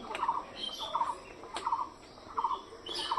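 A pigeon newly brought home gives soft, repeated bubbling calls in short bursts about every half second to a second, close and fairly faint in a quiet room.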